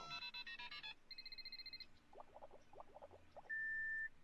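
A cell phone in the Strong Bad video game speed-dials with quick rapid tone beeps and a brief melodic tone, then a short burst of garbled chatter and a sustained steady beep.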